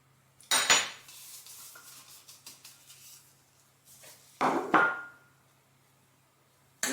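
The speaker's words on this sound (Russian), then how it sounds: "Кукурузный крахмал вмешиваю в муку." A utensil clatters against a bowl while corn starch is mixed into flour for an apple pie dough, two short bursts of scraping and knocking separated by quiet, over a faint steady hum.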